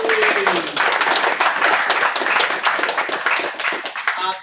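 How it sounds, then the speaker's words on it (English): Applause for three finalists at an event at Hub Martin Place, a brisk burst of clapping close by with individual claps standing out, briefly overlapping a voice at the start and tapering off at the end. "Give them another big round of applause"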